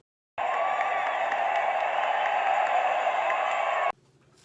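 A stadium crowd cheers during a wave, a dense roar that bursts in suddenly, holds steady for a few seconds and stops just as abruptly.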